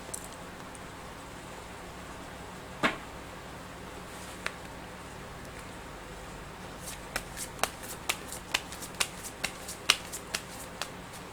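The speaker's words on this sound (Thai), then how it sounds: "อยากจะมาเปิดไพ่ดูให้เพิ่มเติม" Tarot cards are handled and shuffled, with a few isolated soft snaps followed by a rapid series of crisp, close riffling clicks over a quiet hiss.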